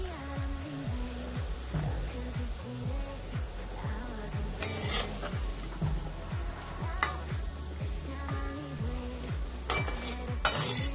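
Fried onions (beresta) are lifted out of a frying pan amid a continuous oil sizzle, with repeated rhythmic scraping and metal utensil clinks against the pan, close up and without talk.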